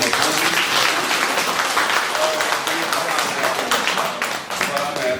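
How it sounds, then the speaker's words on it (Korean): A tour group breaks into sustained applause on a sunset dinner cruise in Bangkok, Thailand, dense clapping that stays loud throughout with a slight dip near the end. "감사의 박수 한 번 쳐주시지요"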